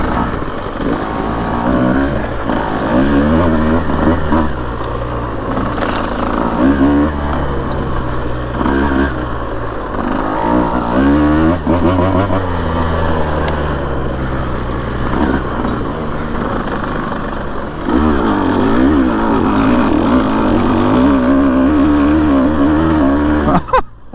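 A Husqvarna TE150 dirt bike rides single track near Florence, Arizona. Its engine is loud and close and keeps droning for the whole stretch, rising and falling with throttle changes as the rider works the trail.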